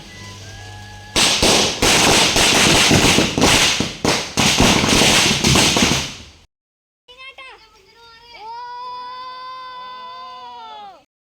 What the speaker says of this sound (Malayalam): അങ്ങനെ വൈകുന്നേരം ആയപ്പോൾ പടക്കം കൊണ്ട് ജഗ പുകയായിരുന്നു.